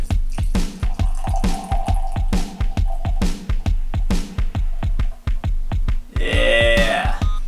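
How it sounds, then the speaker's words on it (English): Suntory Brown Ale beer is poured from a can into a glass with rapid, rhythmic glugging and splashing, then a fizzing, foamy rush near the end as the glass fills. "I think I might be able to pour this properly."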